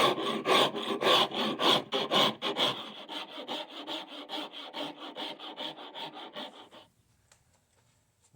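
Rhythmic rasping strokes of a file scraping across wood, fast and steady, gradually fading to quiet near the end.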